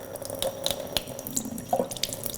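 Tap water running into a pot for seafood soup, a close steady splashing stream with small bubbly plinks and drips scattered over it, brief and alone.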